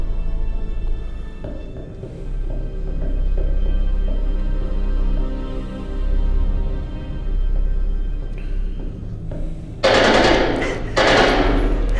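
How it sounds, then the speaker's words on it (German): Rapid bursts of gunfire in The Dark Pictures: Man of Medan crackle loudly over a low rumbling background, with heavy volleys near the end. "da wurde geballert"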